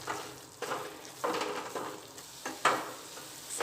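Farali sukhdi batter stirred continuously in a pan over low heat, soft sizzling broken by rhythmic scraping strokes roughly every half second, close and fairly quiet, without speech.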